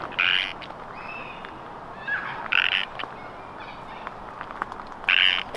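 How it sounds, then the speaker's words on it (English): A frog in a botanical garden gives a mating call, three loud, bright croaking bursts spaced a couple of seconds apart, with fainter calls between them over steady outdoor background noise. "oh, that's a frog"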